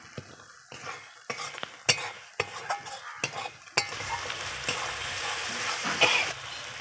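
Spice paste of ground dried red chilli and cumin with turmeric, salt and tomato fries in oil for a Bengali-style silver carp curry, with steady sizzling broken by repeated scraping stirs of a spoon against the pan.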